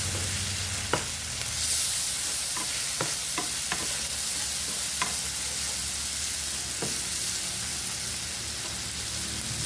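Squid and bitter gourd (ampalaya) stir-frying in a pan give a steady close sizzle, punctuated by a handful of sharp utensil scrapes and clacks at irregular intervals.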